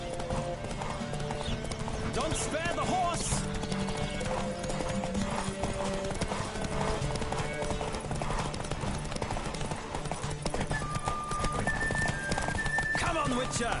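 Racing horses thunder along in The Witcher 3, hoofbeats pounding in a fast unbroken rhythm with an occasional whinny, music underneath and a rider's voice shouting over the gallop.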